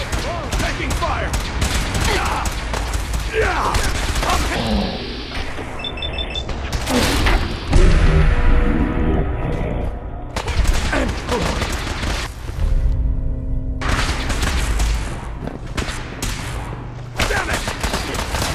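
Gunfire from the video game Fallout 4 rattles in repeated bursts and booms over about eighteen seconds, loud and close, with mechanical clanks and short gaps between volleys.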